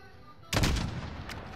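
A single loud gunshot in Call of Duty: Modern Warfare, a sharp close blast after a quiet moment that decays into a rumbling tail, with a faint second crack near the end.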